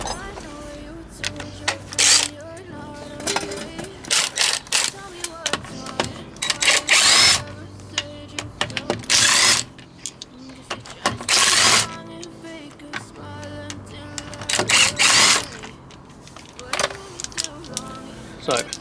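Impact gun zipping wheel bolts off a 9N3 VW Polo GTI in a series of loud, sharp bursts, several in quick pairs, with quieter mechanical handling sounds between them.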